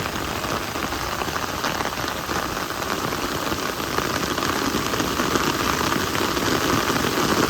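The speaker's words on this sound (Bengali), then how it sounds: "বৃষ্টি হইতেছে, সেই বৃষ্টি হইতেছে" Steady rain pours down in a rural Bangladeshi village, a dense hiss of drops striking surfaces that holds at an even loudness throughout and swells slightly toward the end, with no voices.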